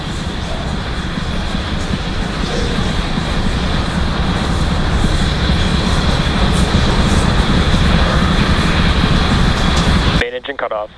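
Falcon 9 rocket engines roar during ascent in a loud, steady broadband rumble that holds for about ten seconds, then cuts off sharply near the end.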